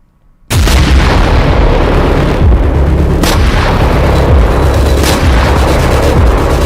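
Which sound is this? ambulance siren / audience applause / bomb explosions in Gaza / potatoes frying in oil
bomb explosions in Gaza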